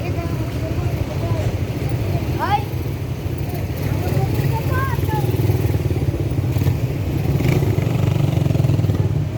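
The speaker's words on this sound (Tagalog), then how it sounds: "Ganda ng motor." A motorcycle engine rumbles steadily nearby on a street in Davao, with street noise and passing chatter, voices speaking over the continuous low drone.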